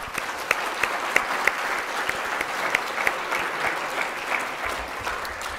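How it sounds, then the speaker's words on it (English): An audience applauds at a conference session on CMT, with dense, steady clapping close by that fades slightly toward the end. "a big round of applause for Atrex."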